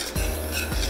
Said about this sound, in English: I'm gonna get this all stirred up.